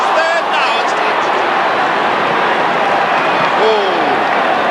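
Moorabbin football crowd at a 1991 St Kilda versus North Melbourne match roaring steadily and loudly as Frankie Coughlin heads for goal, a dense continuous swell of cheering with commentary voices over it.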